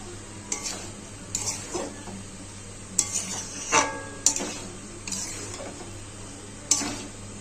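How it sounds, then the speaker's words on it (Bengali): Egg chicken tadka being stirred in a kadai: a spoon scrapes and knocks against the metal pan in several separate strokes over a faint continuous sizzle, close and fairly clear, with no talking. "তরকাটা আমি দিয়ে দিয়েছি, এবার আমি নেড়ে নেবো।"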